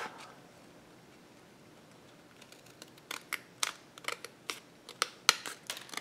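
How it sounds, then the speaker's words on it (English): Scissors trim paper for a craft album: after a quiet stretch, a quick series of crisp, close snips and clicks arrives in an irregular rhythm over the final three seconds. "I'm just going to use my scissors on this. And then we're just going to trim that off."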